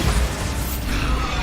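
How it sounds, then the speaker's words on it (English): A Bombarda spell blast in Hogwarts Legacy erupts as a dense, loud rumbling burst that fills the whole moment, broad and close with no voices. "Bombarda."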